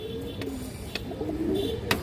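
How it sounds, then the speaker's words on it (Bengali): A female Hungarian Budapest high-flyer pigeon coos softly in short low bursts, with faint clicks and background murmur around it. "অরিজিনাল দর্শক হাঙ্গারিয়ান বুদাপেস্ট হাই ফ্লাই কবুতর দর্শক মাদি কবুতর এই দেখেন"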